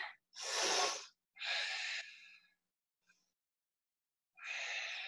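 Deep audible breaths during a yoga class: a strong inhale, then long exhales separated by quiet pauses, close and alone without talk.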